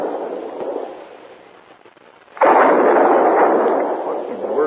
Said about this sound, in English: What in the world is he shooting at now?